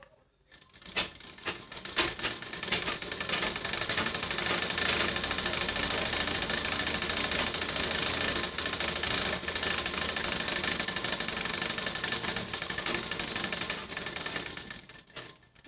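Sewing machine stitching lining onto a blouse, a steady rapid mechanical whir with fine clatter running continuously for most of the stretch at close range, no talk.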